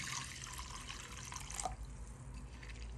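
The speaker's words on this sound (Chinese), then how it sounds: "加入清水。" Clean water pours into a bowl of red-skinned peanuts for rinsing, a steady close splashing and trickling stream running continuously without speech.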